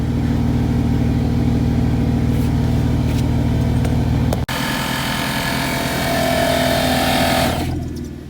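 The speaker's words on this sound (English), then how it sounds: "While the compressor was on, the RPM of the engine increased for the added load" A vehicle engine idles loudly and steadily while its onboard air compressor runs, then the tone shifts abruptly midway into a brighter, harsher running roar that fades toward the end; close, continuous, with no talking.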